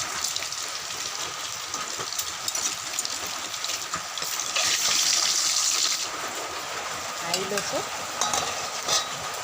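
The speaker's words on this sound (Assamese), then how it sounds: "এইফালে মিঠাতেল গৰম হৈছে এইফালে প্ৰথমতে মই ডিমকেইটা ফ্ৰাই কৰি লওঁ" Eggs frying in hot mustard oil, a steady close sizzle and crackle with a brief louder hissing flare partway through, no talking.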